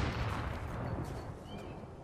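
Gunfire from a battle in Fortnite while using an infantry rifle, a dense rapid burst of shots that fades slightly over about two seconds with no talk.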